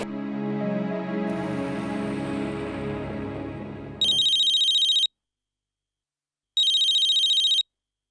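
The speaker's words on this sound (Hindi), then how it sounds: "मिशा, ये मुझे क्यों फोन कर रही है?" A phone ringtone chimes in two bright bursts with a pause between them, following a stretch of other sound.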